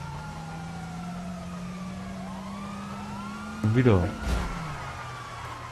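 Police car sirens wail and sweep in the GTA Online video game, a steady siren tone with vehicle engine hum underneath, followed by a short burst of louder crashing noise near the end while someone speaks briefly.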